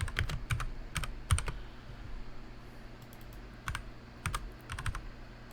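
Computer keyboard typing in short clustered bursts of clicks with pauses between, fairly close and clear over a low steady background hum, while managing a TEW IX wrestling promotion game.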